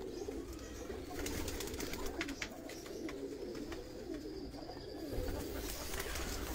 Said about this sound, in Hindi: कुछ कबूतर ये बाहर बैठे हुए हैं